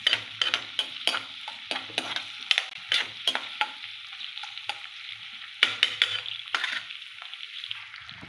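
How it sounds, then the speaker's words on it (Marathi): Chopped onion frying in a couple of ladlefuls of oil in a pan, with steady sizzling and repeated sharp scrapes and stirs of a spoon against the metal, no talk. "कांदा ना व्यवस्थित लाल भाजून घेऊया तेलामध्ये"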